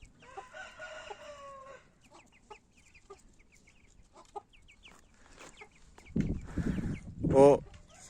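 Backyard chickens and roosters in a coop cluck and call in short bursts, with a rooster crowing loudly near the end, while a person speaks briefly in between.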